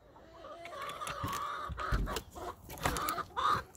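Several hens cluck and squawk in short, irregular bursts, fairly close, with a busy coop-like chatter throughout.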